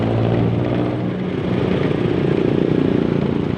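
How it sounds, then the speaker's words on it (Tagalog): Motorcycle engine droning steadily while riding, a loud continuous rumble with slight pulsing as the bike moves along, no voices over it. "Nagdadrive ako ng motor."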